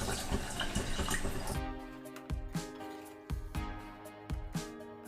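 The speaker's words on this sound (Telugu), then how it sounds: "కూరకు తగ్గట్టు నీళ్ళు పోసుకుందాం" Water is poured briefly into a pot of mutton curry with tamarind juice, a short splashing gush in the first second and a half, followed by quiet clinks and small knocks of utensils nearby, no speech.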